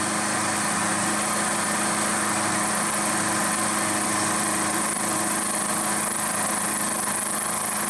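A milling machine takes a conventional milling cut with a 10mm coated carbide cutter, giving a steady, close mechanical drone with a constant whine and no pauses or speech.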